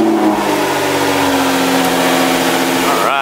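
A Nissan GT-R with a newly installed front mount intercooler runs close by, a loud engine note rising and falling as it revs, with a quick sharp climb at the end.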